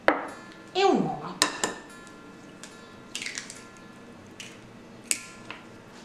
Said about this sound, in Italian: Mescolo il tutto con la forchetta.